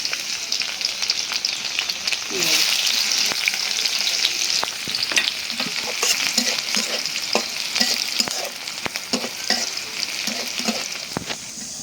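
Garlic fries in a hot pan with a steady, bright sizzle, punctuated by repeated scraping and stirring knocks from a utensil, close up and with no talking.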